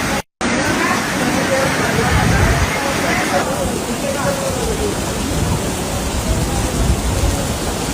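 Heavy monsoon rain pours steadily in the Western Ghats around Charmadi Ghat, Karnataka: a dense, continuous roar of rainfall at even loudness throughout, with no speech.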